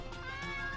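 A cat meows briefly with a synthetic, game-like tone in the video game Chronicles: Fate of a Princess, over a steady background of music or ambience.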